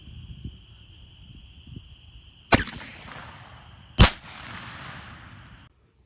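A Monarch 2.5-inch .410 shotgun load of number 9 shot, fired through a full choke at a target 25 yards off, sounds as two sharp, loud blasts about one and a half seconds apart over a quiet outdoor background.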